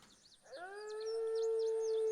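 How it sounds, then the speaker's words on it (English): A small howl sound effect played during a tabletop role-playing game session, a rising then sustained tonal wail that swells from near silence and holds clear and close for over a second, with faint chirping tones above it. "you hear like a small howl go off in close distance to you."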